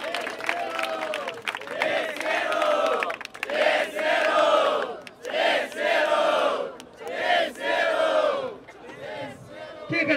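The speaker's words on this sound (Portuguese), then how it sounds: "Toma palmas nessa batalha" Crowd at a Brazilian freestyle rap battle clapping and shouting in rhythmic, surging waves, loud chanted cheers rising and falling roughly every second or so over continuous clapping.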